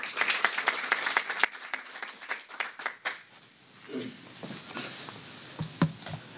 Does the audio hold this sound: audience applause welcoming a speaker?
yes